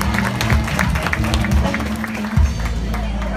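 Audience applause at an opera-style stage show, clapping and crowd noise mixed with low sustained musical tones, moderately loud throughout.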